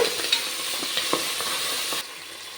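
Washed fenugreek leaves frying in a pan for mutton sambar, a steady close sizzle with a few soft stirring scrapes, dropping quieter near the end.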